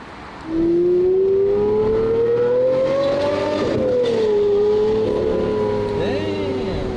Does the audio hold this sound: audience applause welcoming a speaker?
no